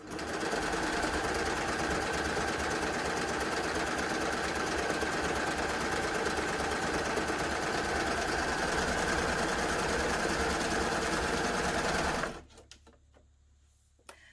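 A Baby Lock Gloria combination sewing machine stitches through doubled denim with a loud, even, close-up hum that holds steady for about twelve seconds before stopping suddenly, leaving near quiet.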